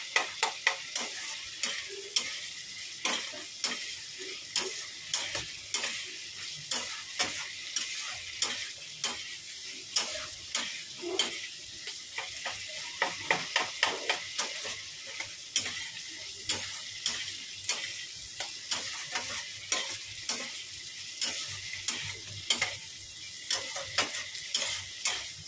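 Spice masala with salt, turmeric, Kashmiri chilli powder and cumin powder is stir-fried in a pan, with a soft continuous sizzle broken by frequent rhythmic scraping strokes of a spatula, close and steady throughout.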